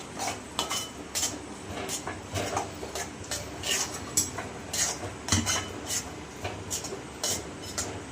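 Mawa being mixed in a pan over a low gas flame while making peda, with a utensil scraping and clinking against the pan in steady repeated strokes, close and fairly quiet, with no talking.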